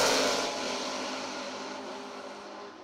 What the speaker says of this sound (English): You can hear the throttle work down there.